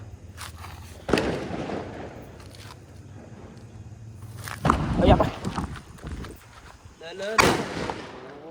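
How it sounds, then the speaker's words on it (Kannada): Firecracker bombs go off in three sharp, loud bangs spaced a few seconds apart, with rattling noise in between and voices nearby. "ಇವಾಗ ಪಟಾಕಿ ಹೊಡೆಯೋಣ ಬನ್ನಿ ಬಾಂಬ್ ಬಾಂಬ್ ಬಿಡ್ತೀನಿ ಬಾಂಬ್"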